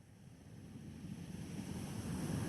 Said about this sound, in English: A few short waves reach up to greet you, lapping up against the shore